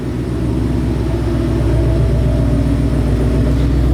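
A 2018-2021 Mustang GT V8 exhaust in sport mode idles with a deep, steady rumble and a lumpy low burble, loud and close throughout.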